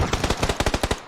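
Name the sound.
gunfire hitting the player in a video game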